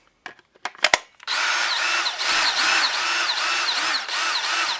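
A few clicks and taps, then a DeWalt 20V MAX cordless drill on speed 2 whirs steadily at moderate speed, loud and close, its pitch wavering slightly as it runs.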